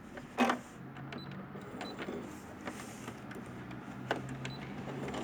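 A sewing machine stitches fabric for a small zippered pouch, giving short mechanical bursts and clicks with pauses between them, quiet and close with no talk.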